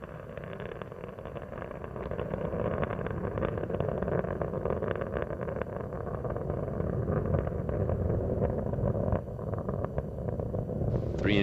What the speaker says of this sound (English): Three engines on Endeavor are now throttling back to 2/3 throttle